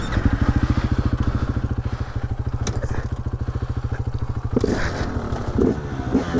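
A dirt motorcycle rides a rutted off-road track, its engine putting out a rapid, steady, buzzing pulse close to the microphone before easing off, followed by clattering and scraping over rough ground.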